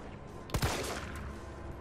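Two quick gunshots in Resident Evil 3 Remake land a headshot in close succession, sharp and fairly close, followed by a lingering reverberant tail over a quiet game background.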